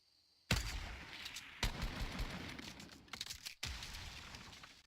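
Gunfire in an online shooter match, loud, sharp bursts of repeated shots arriving in several bursts with brief gaps between them, and no talk over the firing.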